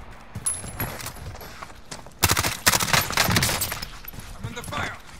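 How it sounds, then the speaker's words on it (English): Video game gunfire: rapid bursts of automatic shots crackle in clusters, loudest in a dense volley midway, mixed with mechanical clicks and background game sounds. "I'm under fire."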